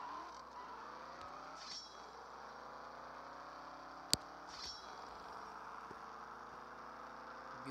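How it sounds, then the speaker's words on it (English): A racing car engine drones steadily in a video game, its pitch sweeping up and down through gear changes, with a sharp click partway through. "Let me do this race, Caleb."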